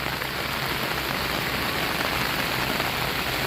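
Floodwater of the swollen Muhuri river at Belonia rushes downstream in a steady, dense roar that fills the whole clip without let-up.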